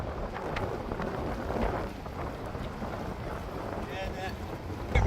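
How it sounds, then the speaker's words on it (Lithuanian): Strong seaside wind at a beach cafe, a loud, steady rushing buffet across the microphone throughout, with a voice briefly audible beneath. "Vėjas bele koks."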